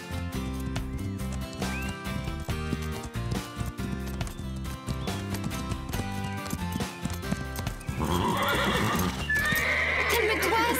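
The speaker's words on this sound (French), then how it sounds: "Parfois, les chevaux s'ennuient et ils s'énervent." Nervous horses neighing and whinnying while hooves clip-clop steadily, loud and continuous over a dense musical backdrop, growing busier and brighter toward the end.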